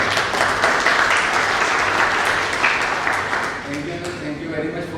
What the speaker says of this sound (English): I just want to give a clap to Dr. Sanjeev Maheshwari.